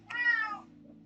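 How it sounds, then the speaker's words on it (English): A single short cat meow, close and clear, rising and falling within about half a second before fading into quiet room tone. "Kitty, don't bite me."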